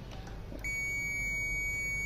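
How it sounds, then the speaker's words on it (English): A SIGMA SG 24A TRMS multimeter in continuity mode sounds its buzzer, a steady, loud high-pitched electronic beep that starts abruptly and holds without a break. "The continuity part, the buzzer is quite loud and you can hear it."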